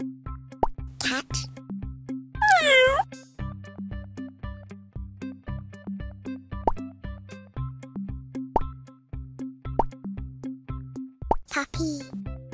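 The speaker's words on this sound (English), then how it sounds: "Cat." A single short cat meow rises briefly over a bouncy, plucky music backing.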